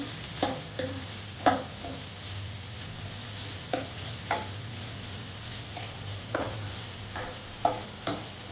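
Ragi soup ingredients frying in oil in a pan give a low, steady sizzle, broken by intermittent clinks and scrapes of a stirring spoon, close up and unaccompanied by speech.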